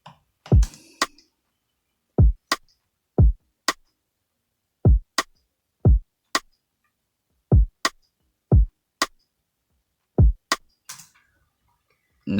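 A dancehall drum pattern plays alone: sparse, punchy kick hits alternate with sharp, bright rim shot clicks in a steady syncopated loop, clear and close with silence between strikes.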